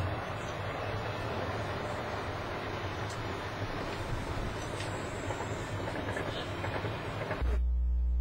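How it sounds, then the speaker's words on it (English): A continuous low rumble and rattle of a passing train along a German river, heard from a ship, carries steadily through the clip, with broad noise over it, ending in a sudden deeper hum. "here comes a train headed to Bonn"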